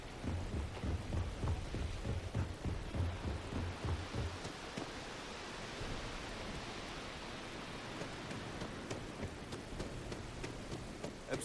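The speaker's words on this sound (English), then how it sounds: "It'd be nice if it would stop raining" Steady rain falls in the video game Starfield as a dense, continuous hiss with rhythmic patters and low rumbles early on, with no talking.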